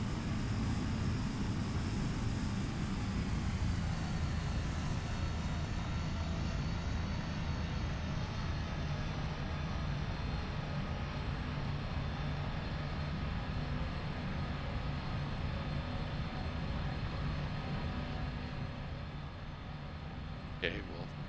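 Simulated Cessna C208B Grand Caravan single turboprop engine in X-Plane 11, a steady continuous droning hum from inside the cabin with constant loudness throughout, easing slightly near the end.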